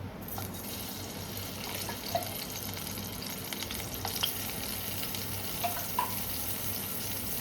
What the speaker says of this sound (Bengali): এই যে এই আলুটা এবার এই তেলের মধ্যে দিয়ে দিচ্ছি, দিয়ে ভেজে নেব।